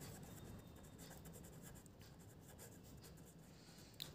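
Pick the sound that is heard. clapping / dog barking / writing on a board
writing on a board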